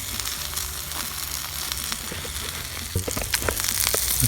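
Bacon fries in a pan over a firebox outdoors in the woods, giving a steady close sizzle and crackle with occasional sharper pops and spatters, no voices.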